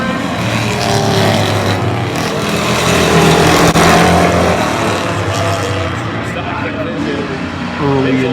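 Race cars run side by side through a heat race at Oyster Bed Speedway, their engines a loud, continuous roar that swells and holds, close and dense, with a slight lift near the end.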